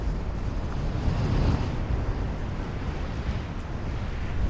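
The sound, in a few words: strong gusty wind by a lake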